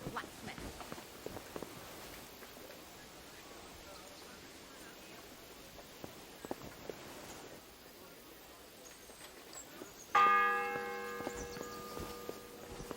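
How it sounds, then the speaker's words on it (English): A church bell tolls in Kingdom Come Deliverance 2, a single bright ringing strike that rises suddenly over faint footsteps and ambient game noise, then lingers and fades. "It's the 8th bell. I need to hurry."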